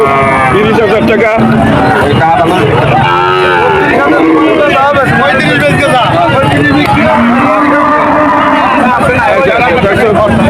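Cows mooing loudly and repeatedly at a busy cattle market, one of them a pregnant cow, with long, close calls layered over the constant chatter and babble of the crowd.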